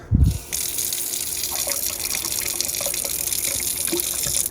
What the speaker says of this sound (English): Looks like I got water.